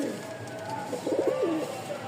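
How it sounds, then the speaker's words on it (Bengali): A fancy-breed pigeon coos once, a soft rolling phrase heard close by against a low background hum, with no talking. "ডাকের কবুতর লাগবে, খুব সুন্দর, সব সময় ডাকে"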